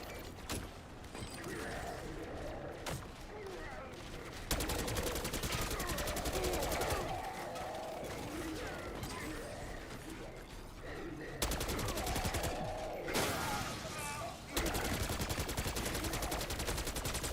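Gunfire in Call of Duty: Black Ops 6, with sustained automatic bursts and rattling fusillades filling the clip and a few abrupt cuts in level, loud and close, with other game noise underneath.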